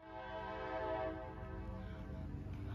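A train passes near a tulip festival park, its horn sounding a long, tonal blast over the low rumble of the cars, moderately loud and close.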